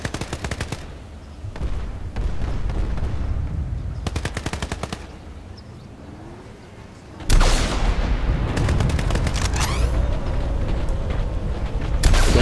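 Rapid bursts of automatic gunfire crackle in the PlanetSide 2 battle, loud rattling volleys separated by brief lulls, with a heavy boom and dense firing in the later part.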